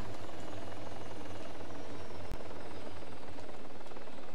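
A helicopter in a video game flies with a steady, droning rotor chop that stays constant and fairly loud, broken once by a brief click.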